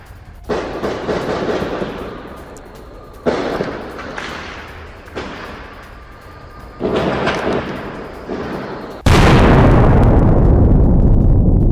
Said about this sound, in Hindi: ड्रोन अटैक के बाद वेस्ट बैंक में ये जोरदार धमाका अंजाम दिया गया